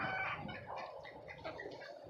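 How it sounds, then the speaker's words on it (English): A full-grown Jersey cross hen clucks nearby in short, soft repeated calls, heard alone without talk. "That's a full-grown chicken."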